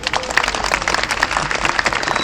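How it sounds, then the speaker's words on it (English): An audience applauds fur seals and their keepers at a training demonstration, a steady wash of many hands clapping at moderate distance, continuous throughout with no voices. "can I get an even bigger round of applause for Silver"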